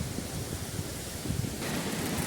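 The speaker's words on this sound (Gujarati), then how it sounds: "એટલો વરસાદ પડે છે" Heavy rain pours down in a dense, steady hiss with no pauses and no voices.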